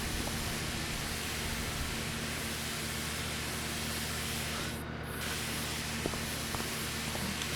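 A pressure washer sprays down a harvester header in Farming Simulator 25, a loud, steady hiss of water that barely changes, with a brief dip midway.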